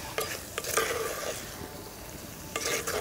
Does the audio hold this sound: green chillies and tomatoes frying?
yes